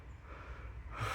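A winded man pants out of breath, giving a short, close, heavy breath that swells toward the end, with no words spoken.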